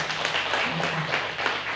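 An audience claps steadily in a dense, even patter at a community gathering of a Thai women's sewing group, with someone speaking over the applause.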